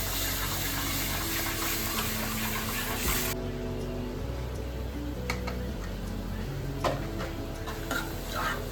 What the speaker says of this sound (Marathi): त्यात हळद घालून छान ढवळून घेतलं